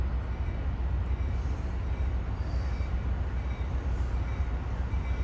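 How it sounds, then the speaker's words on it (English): Amtrak Capitol Corridor train 528, eastbound to Sacramento and led by locomotive 8311 Mount Palomar, arriving with a steady, loud low rumble and rolling rail noise throughout, with no voices. "Your eastbound train to Sacramento, here it comes"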